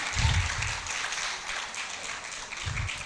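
Audience applause at a law faculty roll call ceremony, a steady wash of many hands clapping at moderate distance, fairly faint, with a brief voice near the start and end.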